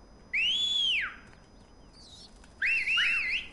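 Two shrill, clear whistles in the video game Cuisine Royale, the first a single rising-and-falling sweep, the second a wavering warbled tune, sounding synthetic against a faint hiss.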